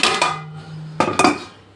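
Metal pots and steel dishes clank and clatter at a kitchen sink during washing, two quick bright knocks, a pause, then two more close, loud clinks that ring briefly.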